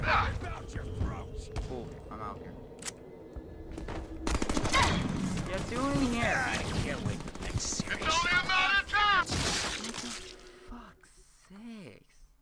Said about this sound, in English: I am shooting you